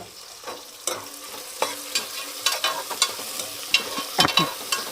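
Sliced onions fry in a pan for ghee rice, a crackling sizzle broken by repeated spoon scrapes and clinks that come in an irregular rhythm, close and clear with no talking.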